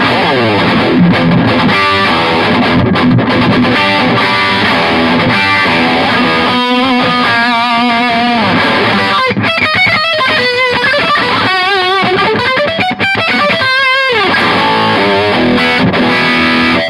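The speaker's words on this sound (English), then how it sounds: "just as a distortion pedal with an emulated output directly into your recording system at home" Heavily distorted electric guitar through a Laney Ironheart Foundry Loudpedal on high gain, playing loud, saturated chords and melodic bends, a dense continuous wall of overdriven tone with no voices.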